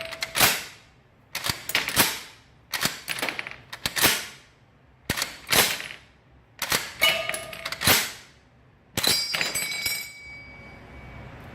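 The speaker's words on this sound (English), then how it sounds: "I can drive the round through, shoot the round, drive the next one, shoot the round," An M1 Garand rifle being cycled by hand, with rounds driven through the action and dry fired: about eight sharp metallic clacks and snaps in a repeating rhythm, close and loud, each followed by a brief rattle.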